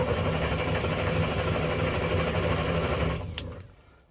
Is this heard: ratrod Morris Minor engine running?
yes